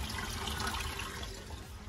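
Pond water rushes steadily while being pumped up through a moving bed filter on a koi pond, a constant close splashing flow with no pauses.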